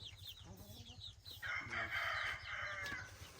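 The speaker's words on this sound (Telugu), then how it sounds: "అన్నము కోళ్ళు తింటున్నాయి అన్ని" Several chickens cluck and crow nearby while eating rice, overlapping calls with a louder rooster-like cry in the middle, over a low steady hum.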